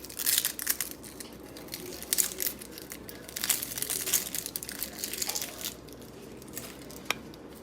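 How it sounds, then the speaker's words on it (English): Dry onion skin peeled by hand in a home kitchen, giving close, crackly crinkling and papery rustles in irregular bursts that continue throughout, with no talking. "we'll go ahead and peel the other half"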